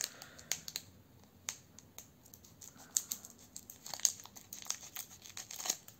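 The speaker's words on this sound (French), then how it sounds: "je vais les découper au ciseau" Scissors snip and crinkle through foil Pokémon card booster packs up close, a series of sharp, scattered cuts and rustles at a quiet level.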